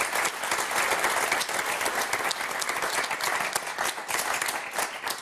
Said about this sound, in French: qu'on va applaudir d'ailleurs